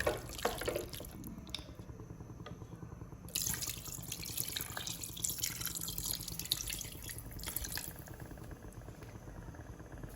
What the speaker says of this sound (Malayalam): ഇനി ഇതിലേക്ക് 1 ഗ്ലാസ് വെള്ളം ചേർത്ത് കൊടുക്കാം.